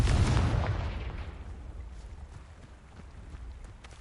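A Confringo blasting spell bursts in Hogwarts Legacy, a loud booming explosion at the start that rumbles and fades over a few seconds, with no talk.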